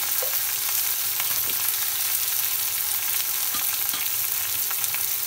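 Tomatoes with salt and turmeric fry steadily in a pan for poha, giving a continuous close sizzle with a few soft stirring scrapes and taps scattered through it.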